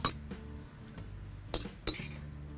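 Roasted dry fruits lifted out of ghee and dropped into a bowl while making sheer khurma, giving a few sharp metallic clinks of a spoon against the bowl, with two louder knocks near the end and no voices.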